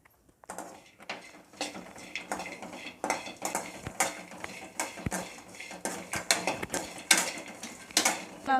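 Walnuts roasting in a pan are stirred with a metal spoon, giving a steady run of close scraping and clinking taps with an irregular rhythm and no talk.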